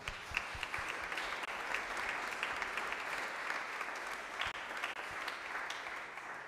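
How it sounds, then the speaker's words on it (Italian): An audience in a hall at a choral polyphony event applauds continuously, a dense, even wash of many hands clapping at moderate level throughout. "che accogliamo anche lui con un applauso."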